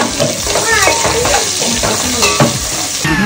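Chopped onions fry noisily in a hot pan while being stirred, giving a loud, continuous sizzle with scraping and clinking from the stirring throughout.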